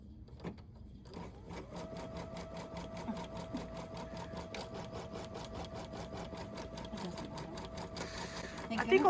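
An embroidery machine stitches a placement line on a pet stocking, starting up and then running with a continuous rapid clatter and a steady tonal hum, close by.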